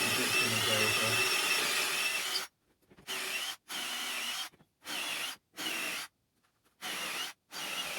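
Cordless drill boring holes for T-nuts in climbing volume boards: a long continuous whir followed by five short separate bursts with brief silences between them, loud and close.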